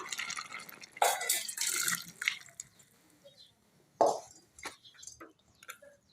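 Cooking pot being rinsed with water in a home kitchen: intermittent splashes and pours, drips and scraping in separate bursts, close and fairly quiet with pauses between.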